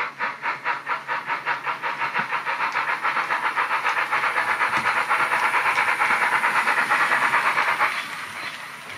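A Roco class 86 model steam locomotive with a sound decoder running at speed step 70, with quick, even chuffs of hissing steam that speed up and merge into a steady hiss before easing off.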